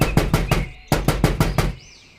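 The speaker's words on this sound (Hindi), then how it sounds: "मोहनलाल वहां जाकर दरवाज़ा खटखटाता है।" Two quick bursts of door knocking in a Hindi cartoon horror story, four sharp raps then four more after a short pause, loud and close with no talk.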